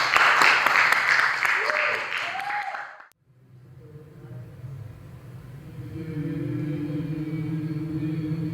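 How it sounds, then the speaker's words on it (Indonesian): Children in an audience at a theater rehearsal clap in a dense burst for about three seconds, then it cuts off abruptly to quieter room noise with a low hum and faint voices. "Tepuk tangan adik-adik."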